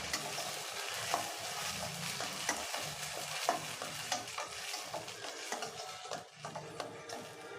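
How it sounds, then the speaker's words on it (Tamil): A tomato, pepper and cumin paste sautés in a pan for an anchovy fish curry, a loud close sizzle broken by repeated scraping stir strokes in an uneven rhythm, with no voices over it. "இப்போ தக்காளி பேஸ்ட்டு சேர்த்து நல்லா வதக்கி விட்டுடலாம்."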